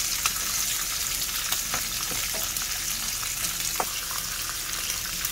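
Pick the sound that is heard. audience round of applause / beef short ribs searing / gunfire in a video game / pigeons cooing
beef short ribs searing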